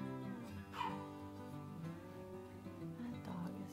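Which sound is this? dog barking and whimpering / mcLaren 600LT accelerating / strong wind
dog barking and whimpering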